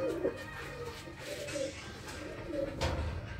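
Pigeons in a loft with plywood nesting boxes give low, repeated coos close by, several overlapping calls across a few seconds over a faint background hum.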